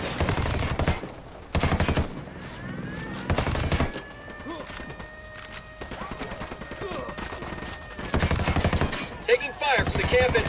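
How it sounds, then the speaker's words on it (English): Gunfire at a camp entrance in the video game Ghost Recon Wildlands: repeated rapid bursts and volleys of shots, loud and close, with short pauses between them. "Taking fire from the camp entrance."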